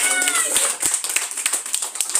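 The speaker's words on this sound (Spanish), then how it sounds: "aplauso para la señora para los chicos." Guests clap in short, uneven bursts at a child's sixth birthday party, close by and mixed with talking voices over a brief span.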